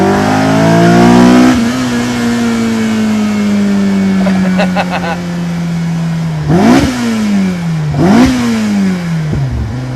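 A Honda Accord Type S with a K24 engine revs hard toward 8300 rpm, its loud intake and exhaust note climbing and dropping through several rev swells, up close and with no talk over it.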